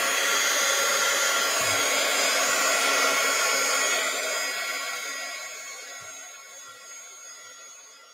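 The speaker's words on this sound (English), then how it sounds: "I'm gonna use my hair dryer, so if you all have want to cover your ears, now's the time." A hair dryer blows steadily on a watercolor wash painting, a loud continuous whooshing drone close by that gradually softens in the second half.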